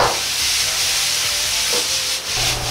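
Minced meat, cabbage and yakisoba noodles stir-fried in a pan with spicy seasoning, giving a steady close sizzle and hiss with scraping and tossing sounds throughout and no speech.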